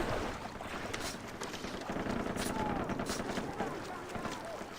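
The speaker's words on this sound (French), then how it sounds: "Ça tire d'où là?" Gunfire in the video game Far Cry 3 crackles in a dense, rapid string of shots mixed with water and ambient noise, moderately loud and continuous, with a voice speaking underneath.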